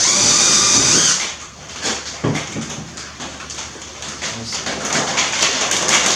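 A power drill whines loudly for about a second, then stops, leaving rustling and handling noise before a faint whirr returns.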